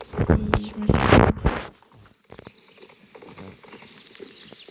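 Horse hooves clip-clop in a video game during main quests. A quick run of loud, close hoofbeats lasts about two seconds, then stops and leaves a faint background hum.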